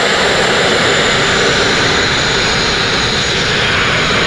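Sandblasting the steel hull of a narrowboat produces a loud, close, continuous roaring hiss of blasting air and grit. It runs unbroken throughout with no talking.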